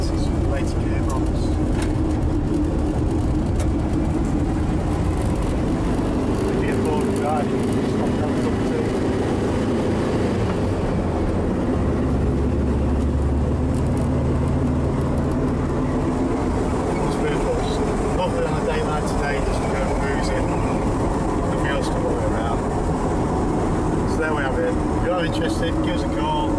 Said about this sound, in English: Coming down the gears, second pressure's good in all the gears, it's the later gearbox.